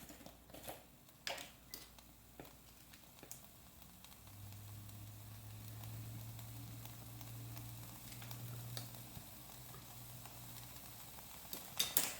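Leftover BBQ pulled pork and rice fry in a skillet with a soft, steady sizzle and scattered light pops and stirring scrapes, heard close up with no talk over it.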